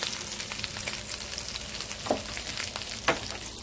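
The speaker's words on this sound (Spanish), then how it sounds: "Vamos a ir sofriendo." Chicken gizzards sautéing in a pan, a constant close sizzle and crackle with a couple of brief louder stirring scrapes.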